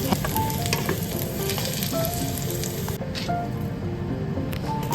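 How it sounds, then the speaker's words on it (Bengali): Potatoes and onions frying in a pan at home, a steady close sizzle and crackle running throughout with occasional stirring scrapes, no talking. "রান্নার প্রথমেই যেহেতু আমি আলু পেঁয়াজ ভাজা শুরু করে দিয়েছি"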